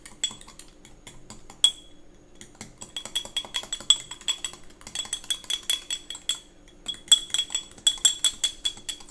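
A spoon clinks steadily against a glass while warm milk is stirred into spiked hot chocolate, with rapid close metallic taps in bursts and short pauses between them.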